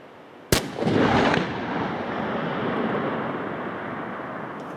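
A single sharp rifle shot from a .375 CEB 350 bullet fired at a rock 2050 yards away, loud and close, followed by a long rolling echo that fades slowly into wind.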